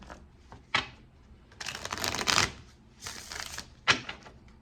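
Tarot cards are shuffled by hand in short, crisp bursts of riffling and snapping, close and fairly clear, with brief pauses and a few sharp taps between them and no talking.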